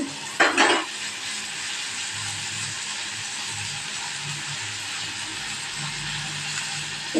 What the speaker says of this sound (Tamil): இப்போ போட்டு கொஞ்சம் நல்லா அந்த எண்ணெயிலே நல்லா வதக்கணும் கொஞ்சம் நேரம் அப்படியே வதக்க விட்டு